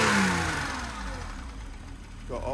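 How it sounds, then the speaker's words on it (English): A BMW 635csi E24 engine, throttle pulled by hand, revs up in a loud burst, then settles back toward a rough idle before rising again at the end; the valvetrain sounds noisy. "I'll just pull the throttle and show you it revving."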